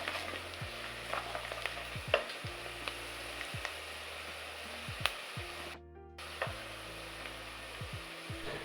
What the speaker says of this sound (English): Then I end with black pepper and stir in well to combine with other spices and oil.